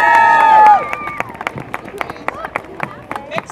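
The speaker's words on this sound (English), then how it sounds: "So let's have a big round of applause for the Frisbee Carolers." Scattered, uneven claps ring out from an outdoor holiday tree lighting crowd in Rochester, NH, greeting the Frisbee Carolers; a brief tonal sound opens before the sparse, sharp hand claps follow.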